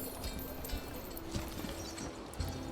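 Horse hooves clip-clopping in the medieval city-building game Manor Lords, soft repeated hoofbeats at an unhurried pace over a low ambient game background.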